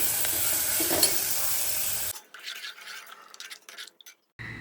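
Hot tempering for dal curry sizzles loudly in a pot as it is stirred, then the hiss cuts out and a few scattered clinks and scrapes of a spoon follow.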